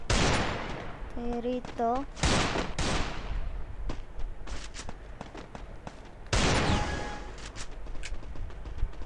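Gunfire from the CS Range video game comes in sharp, loud bursts and single shots. A voice talks over the early part.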